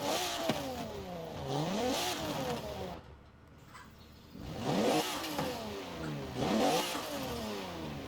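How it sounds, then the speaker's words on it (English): A Rossion Q1 sports car engine in Forza Horizon 4 revs up and down repeatedly in sweeping waves, loud and close, heard from outside the car, with a short lull in the middle before the revving returns. "get a little bit of a sound of what this car sounds like from the outside"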